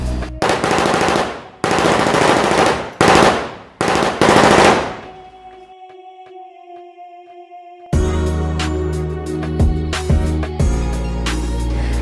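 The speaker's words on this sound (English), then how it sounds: "they were executed by a 4-man People's Revolutionary Army firing squad" Bursts of automatic gunfire from a four-man firing squad, several loud rapid volleys separated by short gaps, then a lull with a faint tone before another dense, noisy stretch.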